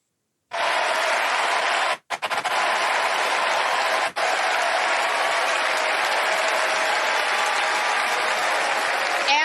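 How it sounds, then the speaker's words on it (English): A large crowd at a political convention breaks into sustained, loud applause that begins abruptly and continues as a dense wash of clapping, briefly dipping twice before carrying on. "it was definitely the crowd's response upon her mentioning Donald Trump"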